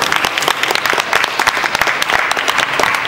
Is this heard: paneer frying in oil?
no